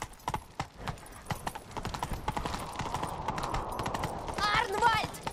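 Horse hooves clip-clop in a fast galloping rhythm in The Witcher 3, close and steady, and a neigh comes near the end.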